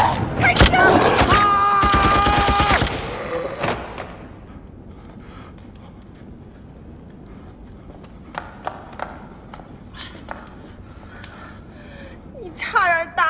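Rapid bursts of gunfire crack loudly in a zombie comedy-thriller scene, a dense volley in the opening seconds followed by scattered fainter shots and clatter, with shouting voices in between.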